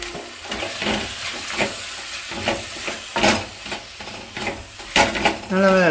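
Chili powder is stirred into beef masala in a pan, giving repeated close scraping stirs over a sizzling, hissing fry; a voice sounds briefly at the very end.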